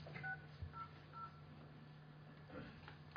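Touch-tone telephone keypad dialing on an ordinary phone, a few short, faint DTMF beeps spaced irregularly over a quiet line hum.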